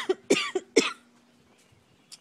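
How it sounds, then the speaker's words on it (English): A person coughs several times in quick succession in an outdoor garden, four sharp close coughs followed by quiet with a faint sound near the end. "And I've got the coughs."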